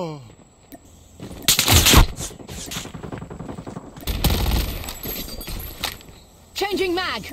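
Bursts of rapid gunfire in a first-person shooter match, heavy clustered shots rising twice to loud peaks, with a player's voice talking between and over them.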